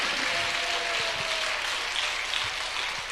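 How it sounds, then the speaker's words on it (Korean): A church congregation claps loudly for Jesus, a dense and steady wash of many hands that fills the room and keeps going without a break. "Mightily clap your hands to 우리 Jesus."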